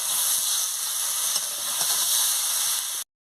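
Mashed taro and fish fry in a pan, giving a steady, loud sizzling hiss that holds evenly before cutting off abruptly near the end.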